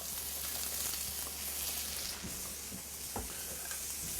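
King oyster mushrooms fry in oil in a pan, a close, steady sizzle that holds for several seconds with one brief utensil scrape partway through.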